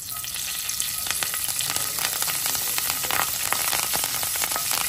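Curry leaves crackle in hot oil with asafoetida before stuffed okra goes in, a dense continuous sizzle heard up close with no talking.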